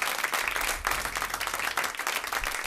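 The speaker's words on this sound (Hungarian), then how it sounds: "Nagyon szépen köszönjük a hatalmas tapsot." Audience applause at an acoustic radio concert, a dense, even wash of many hands clapping at moderate loudness without pause, with no talking.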